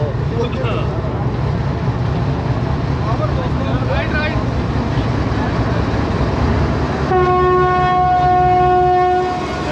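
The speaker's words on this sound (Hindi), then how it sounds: "फाइनल विसल भी हो गया और बिल्कुल अब थोड़ा स्लो मूव होगी।" The 28 Down Shalimar Express pulls out of Lahore Junction amid loud continuous rumbling and platform noise while someone talks, and a long steady whistle sounds near the end.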